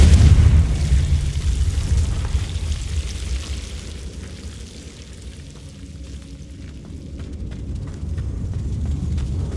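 A Confringo spell explodes in the video game Hogwarts Legacy: a loud, deep boom bursts at the start, then a long rumbling tail fades slowly and swells slightly again toward the end.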